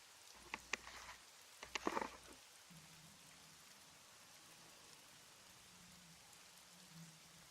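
Heavy rain ambience track playing under a tabletop role-playing session, a steady soft hiss of rainfall throughout with a few sharp crackling bursts early on, faint and continuous.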